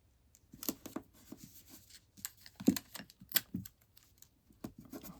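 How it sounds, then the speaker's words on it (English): Tape is pulled, torn and pressed onto card stock for a stamped greeting card, a close series of irregular crisp clicks and rips with short pauses between. "I'll put some tape on there."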